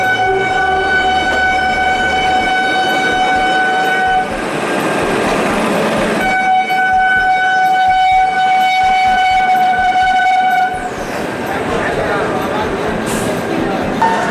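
Gatiman Express train standing at a station platform, a loud continuous rumble with steady tonal hum throughout, under a busy platform ambience.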